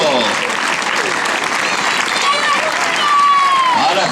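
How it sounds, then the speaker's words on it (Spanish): Spectators applaud at the finish of a 10K road race in Illa de Arousa, a steady mass of clapping with crowd noise while an announcer talks over it throughout. "Ese aplauso de reconocimiento"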